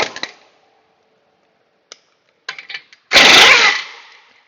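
An impact wrench rattles in a loud burst of about a second while loosening a 32 mm center nut on a Subaru hub, following a few short metallic clicks and taps in an otherwise quiet workshop.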